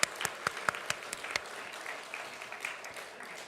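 A church congregation claps during a Sunday morning worship service, starting with a few sharp separate claps and building into steady mid-distance applause that fades out.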